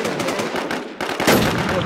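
An enemy player's gunfire in a multiplayer shooter video game crackles in quick repeated shots, loud and close, with a sharper burst partway through.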